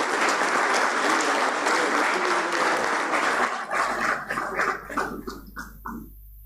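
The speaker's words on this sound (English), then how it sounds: "A big round of applause." A conference audience at India Mobile Congress gives a big round of applause as panelists receive mementos, dense loud clapping that thins into a few scattered claps and then stops.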